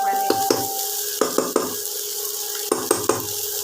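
Carrot, beans, capsicum and pointed gourd stir-fried in a pan for Bengali vegetable rice, with a steady sizzle under sharp metallic spatula scrapes and clinks arriving in small clusters, close and fairly loud, no voices.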